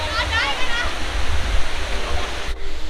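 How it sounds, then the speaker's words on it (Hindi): Tiru waterfall, set in forest above a river, roars as a dense, constant rush of falling water close by, with a voice speaking over it. "एंड पानी इधर से गिर रहा है, वो झरना आपको दिख रहा होगा हल्का हल्का।"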